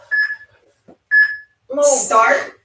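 A workout interval timer during a kettlebell session gives two short, clear electronic beeps about a second apart, followed by a person speaking close by.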